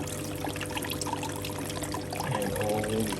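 Water trickles and splashes steadily down small waterfalls in a paludarium aquascape, a continuous close, gentle pouring sound with no voices.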